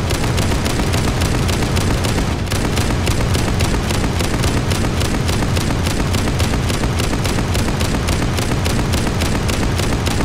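Rapid automatic gunfire in the survival game Unturned, a relentless, evenly spaced burst of loud shots running unbroken from start to finish.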